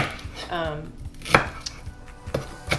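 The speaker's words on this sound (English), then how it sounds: "Chop this up a little bit to keep it a little thinner." A knife chops vegetables thin on a cutting board for a stir fry, giving a handful of close, crisp, irregularly spaced thuds with short pauses between them.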